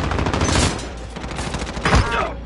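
Video game shootout gunfire: rapid bursts of shots crackle close and loud over about two seconds, with a heavier blast near the end and a voice faintly present.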